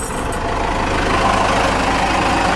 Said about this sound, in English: Sounds like factory at idle